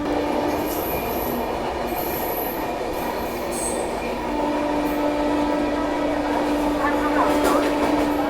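Kolkata Duronto Express train rolling at moderate speed through Tundla junction, a steady loud rumble of wheels on rails with rattling coaches, faint high squeals and a brief horn-like tone near the start, continuous throughout.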